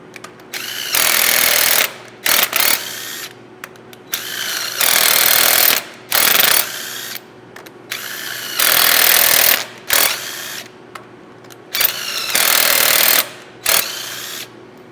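A CNC mill backs a stud out of a track adapter in loud bursts of harsh rattling machine noise, each lasting about a second or two, separated by short near-silent pauses and a steady low hum.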